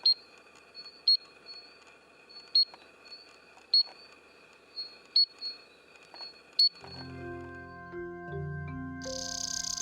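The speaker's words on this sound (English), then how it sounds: "Tink frogs join the night chorus to attract mates." Tink frogs call in a night chorus, sharp metallic tink notes repeating at a steady, spaced rhythm, with music taking over near the end.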